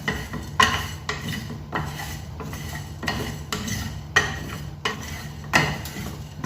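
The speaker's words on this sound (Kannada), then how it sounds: "ಕೊತ್ತಂಬರಿ ಸ್ವಲ್ಪ ಸ್ವಲ್ಪ ಮೆಂತೆ ಸೇರಿಸಿ ರೋಸ್ಟ್ ಮಾಡ್ಕೊತಿದ್ದೇನೆ" Coriander seeds, cumin and fenugreek dry roasting in a frying pan, a spatula scraping and rattling the seeds against the metal in a regular stirring rhythm of sharp strokes, close and alone without talk.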